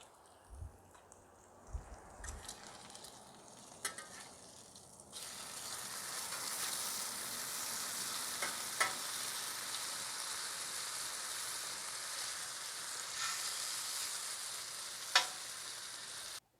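Bacon sizzles steadily on an outdoor Blue Rhino Razor griddle, a dense hiss that swells louder after a few seconds, with occasional faint clicks and scrapes.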